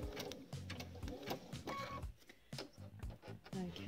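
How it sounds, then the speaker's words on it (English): A sewing machine stitching fabric appliqué, running in steady rapid bursts of needle clatter with short pauses and restarts, close and fairly quiet, with no speech over it. "So we're going to stitch all the way along."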